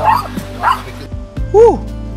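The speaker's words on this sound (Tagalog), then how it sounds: "Kita na naman ang aso." A dog gives a few short yips and whimpering barks, close by and fairly loud, spaced across a couple of seconds at an outdoor meal in Mauban, Quezon, with people talking in between.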